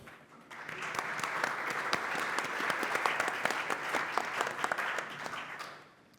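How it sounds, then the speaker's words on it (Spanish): Audience at a wealth-management summit in Peru breaks into steady applause, a dense patter of many hands that swells quickly, holds for several seconds, then tapers off. "Un aplauso para ellos."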